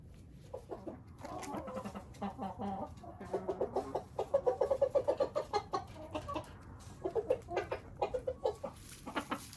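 Two silkie roosters and three hens cluck in a coop, a run of soft, rhythmic clucks rising and falling close by, with faint voices now and then.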